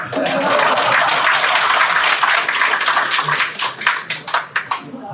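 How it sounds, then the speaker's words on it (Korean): An indoor crowd applauding at a campaign office opening, dense sustained clapping for several seconds that thins into a few scattered claps at the end. "박수 칠 때 같이 치자."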